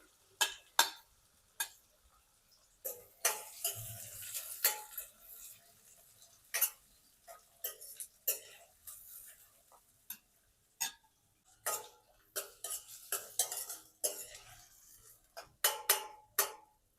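Quiet, irregular clicking and scraping of a spoon stirring onions in a pan for an okra and onion curry, with soft sizzling underneath and no talking.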